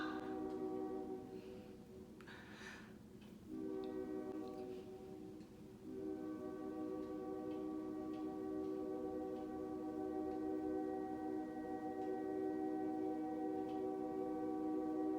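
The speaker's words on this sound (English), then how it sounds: "Sorry for being rudely interrupted by the damn train outside." A train passing outside, heard indoors as a long, steady blaring horn with rumbling wheels beneath, growing fuller and sustained, loud through the walls, no talk.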